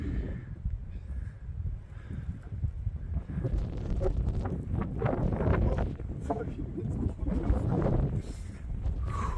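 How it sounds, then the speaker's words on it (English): Cold wind gusts steadily into the microphone with a low, rough rumble during a freak snowstorm in the mountains at Crawford Notch, New Hampshire, swelling and easing throughout while a person talks over it. "That wind is cold."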